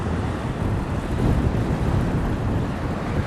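Strong wind buffets the microphone on a beach near Bournemouth, a loud continuous roar with rumbling gusts and no voices.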